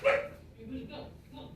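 A dog barks indoors, one sharp bark at the start followed by softer yips and whimpers, fairly close and brief.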